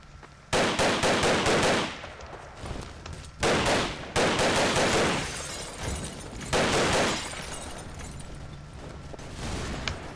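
Bursts of rapid automatic gunfire in the action shooter Double Action, loud and close. Several long volleys are separated by short pauses, with shattering debris mixed in.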